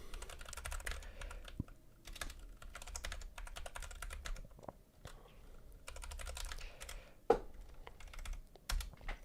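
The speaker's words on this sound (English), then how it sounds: "I got to remember what I'm typing in File Explorer." Someone types on a computer keyboard while entering a search in File Explorer, making steady close-up bursts of key clicks and clacks with short pauses in between and no talking.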